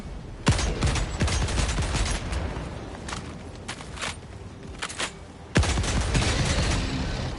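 Weapon gunfire in the video game Helldivers 2, rapid bursts of loud close shots in clusters with a few heavy booms and short gaps between volleys.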